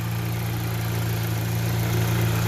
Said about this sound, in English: you hear that? That is the engine running.